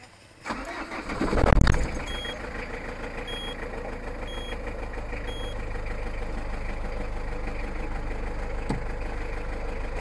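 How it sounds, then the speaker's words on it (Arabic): A car's engine cranks and catches with a brief loud surge, then settles into a steady, smooth idle that continues evenly close by, with a few short electronic beeps heard early on. "انا غندير لكم الطوموبيل باش تسمعوا الصويت ديال الموتور ان شاء الله"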